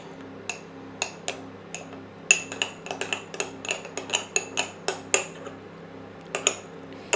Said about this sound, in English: you get a little spoon or something and you need to mix this corn flour in